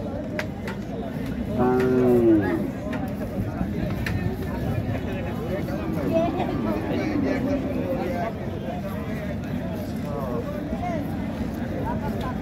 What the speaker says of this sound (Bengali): এই একটা আছে, এটাকে দেখো, দেখেন কত বড় গরু